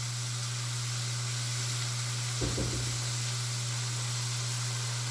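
Vegetables sauteing in a pan for a steak dinner, a steady broad sizzle over a low constant hum, with one brief thump or stir partway through.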